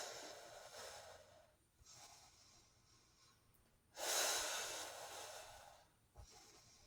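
Breaths during a glute workout: a long hissing exhale, a brief pause, then a sharper, louder inhale, repeated in a steady lift-and-lower rhythm, close and fairly quiet.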